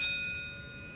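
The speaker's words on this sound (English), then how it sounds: "When you hear the bell," A single bright bell chime from a Valvoline Instant Oil Change advert rings out clearly and fades smoothly, alone with no talk.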